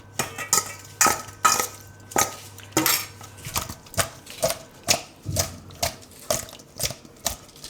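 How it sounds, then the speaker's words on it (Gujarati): Spoon or whisk clinking rhythmically against a bowl while yogurt is mixed into paneer, a steady series of sharp scraping taps close by, with no talking. "થોડુંક આપણે એમાં દહીં નાખીશું અને મિક્સ કરી લઈશું."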